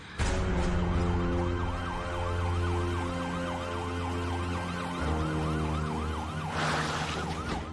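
A police car siren wails continuously with a rising and falling cycle, loud and steady throughout, swelling slightly near the end as the vehicle comes closer; no talking.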